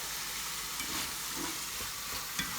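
Shrimp with Cajun seasoning sizzle steadily in a hot pan while being stirred, a constant bright frying hiss with soft scraping movements and a small clack near the end, no voices.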